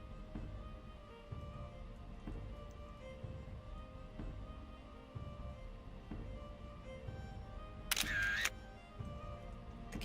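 A single camera shutter click sounds in The Sims 3 video game, a short bright burst over a quiet background of soft game ambience and music.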